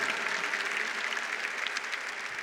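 Catholic congregation applauding during a Portuguese-language Mass sermon, a steady, dense wash of clapping sustained evenly throughout, no voices breaking through.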